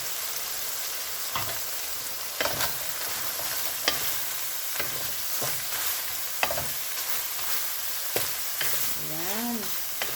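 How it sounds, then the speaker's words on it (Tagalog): Carrots frying in a pan as they are stirred, with a steady crackling sizzle broken by repeated scraping and clattering of the spatula; close and moderately loud, with a brief whistle-like chirp near the end and no talk. "lalagay ko na yung carrots"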